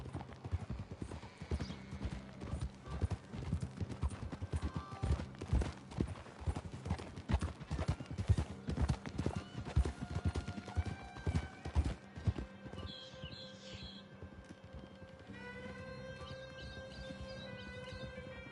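Horse galloping in Red Dead Redemption 2 on PS5: a dense, loud run of hoofbeats for about twelve seconds, then a horse whinnies and the galloping stops, leaving steadier tonal game sounds behind.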